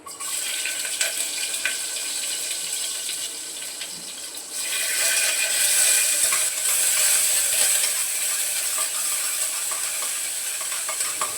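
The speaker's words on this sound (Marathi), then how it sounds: "तेल टाकलंय आणि आता इथे फक्त थोडेसे जिरे घालते फोडणीला आणि लसूण टाकते" Cumin and garlic tempering in hot oil for a spicy sprouted-bean usal: a loud, close, continuous sizzle that swells and intensifies partway through and then holds steady.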